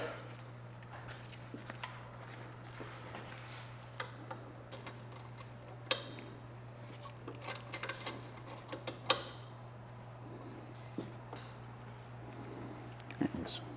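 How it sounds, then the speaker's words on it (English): Bolt being removed with a 4mm bit and 1/4-inch wrench in tight quarters on a Yukon/Tahoe power running board: sparse, faint, irregular ticking clicks over a steady low hum, with a few sharper clicks scattered through. "I'm going to use a 4mm bit and a 1/4 inch wrench to go ahead and remove this bolt."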